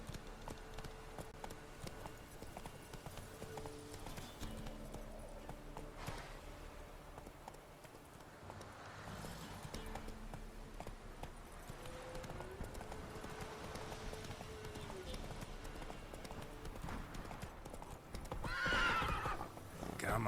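Roach the horse galloping in The Witcher 3, a rhythmic clip-clop of hooves with a neigh, fairly quiet and continuous, ending in a louder burst of hoofbeats and a whinny.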